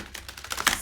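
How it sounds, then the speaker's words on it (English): Fairy Tarot cards being shuffled by hand, a quick run of crisp riffling snaps and flicks that build to a louder burst near the end, close and alone without any talking. "I'm shuffling the Fairy Tarot card deck for you guys."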